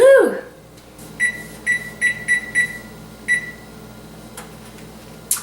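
A kitchen timer being set while a large chicken roasts gives a run of short, bright electronic beeps in an uneven rhythm, close and clear over a quiet room, after a brief vocal exclamation.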